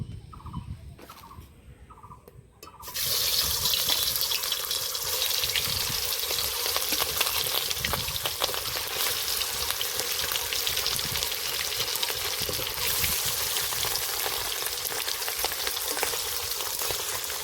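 After a few quiet seconds, a loud, continuous sizzle erupts as marinated katla fish pieces hit hot oil, then crackles and hisses steadily without letup.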